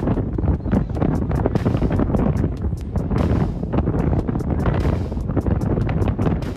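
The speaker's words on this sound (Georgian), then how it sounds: "როდესაც ქარი ძლიერდება" Strong wind roars and buffets the microphone in a loud, continuous rush broken by rapid gusty thumps throughout, with no voices.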